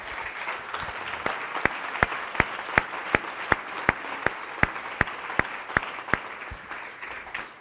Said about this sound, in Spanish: Si le va a dar un aplauso a Dios